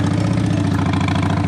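A Harley motorcycle engine running with a deep, even, throbbing rumble and a steady pulsing beat, close and loud throughout this brief moment without speech.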